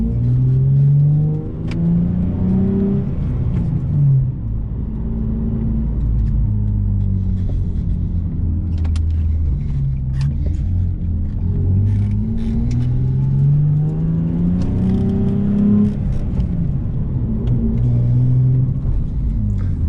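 A Nissan 370Z NISMO sports car on KW V3 coilovers being driven, its engine rumbling and revving up and down in repeated pulls, heard loud and close from inside the cabin with no talk.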